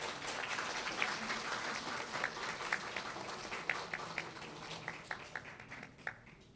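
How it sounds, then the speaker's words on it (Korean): An audience at the Hope Gyeonggi Forum claps to welcome the vice governor and the guest speaker. Individual claps pop out over a softer, moderately distant wash of applause that thins slightly toward the end. "박수로 환영해 주시기 바랍니다"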